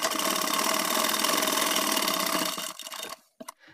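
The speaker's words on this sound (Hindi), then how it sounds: "इस पॉकेट वाले कपड़े पर भी हम किनार की सिलाई लगा लेंगे" A sewing machine stitches along the edge of pajama pocket fabric with a steady, continuous mechanical whir for about two and a half seconds. It then stops, leaving a few brief clicks and knocks.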